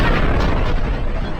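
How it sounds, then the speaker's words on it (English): A supernova explosion sound effect plays as a massive star collapses. It is a loud, dense, roaring rumble with heavy low-end boom, sustained throughout a brief burst. "it collapses, triggering a supernova explosion."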